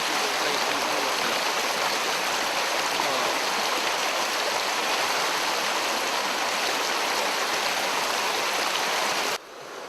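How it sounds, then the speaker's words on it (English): A small, shallow stream in a desert setting rushes and burbles in a dense, continuous wash of water noise, close and steady, with no talk, fading slightly at the very end. "having just dipped my feet in this beautiful stream, it feels absolutely wonderful"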